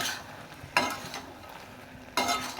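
Pumpkin greens with cumin are stirred in a pan: two sharp scraping strokes of a spatula stand out over a faint, low sizzle, close and without speech.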